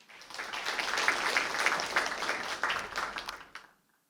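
A brief burst of audience applause at an academic symposium welcoming a keynote speaker, rising quickly, holding for about three seconds of dense clapping, then stopping abruptly into silence.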